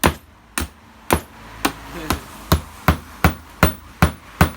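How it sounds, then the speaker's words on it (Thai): A nail driven with the thick spine of a heavy blade, ten sharp metallic blows in a steady, evenly spaced rhythm, close and loud, each strike ringing briefly before the next. "ตอกตะปูได้นะครับนะ"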